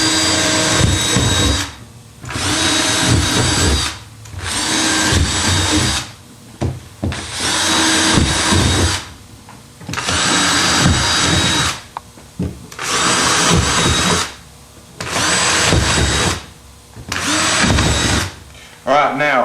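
Power drill boring a series of holes into a white fiberglass troll tray, six or seven loud bursts of whining drilling separated by short pauses, close up with no talking.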